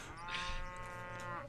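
A cow moos in the video game Rising World, a single drawn-out low call lasting over a second, fairly faint and with no talk over it.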